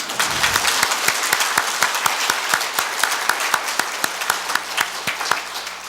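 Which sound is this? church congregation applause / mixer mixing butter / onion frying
church congregation applause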